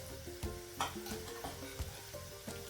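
Spices such as red chilli powder, goda masala, coriander and cumin powder stir and sizzle in hot oil in a pan for a fresh rajma curry, with steady frying hiss and occasional scraping knocks of a spoon, close and alone.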